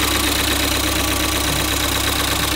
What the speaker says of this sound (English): It runs and clicks away like a direct injected engine should.